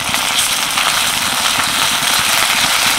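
Ginger garlic paste hits hot oil over deeply browned fried onions in a pan, giving a dense, steady sizzle with scattered crackles and pops that runs unbroken throughout.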